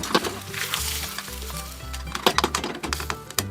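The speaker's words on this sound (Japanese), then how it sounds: "フライパンが温まったので、溶き卵の半量を流し入れます" Beaten egg poured into a hot frying pan over medium heat sizzles and crackles softly, with some stirring clatter over background music.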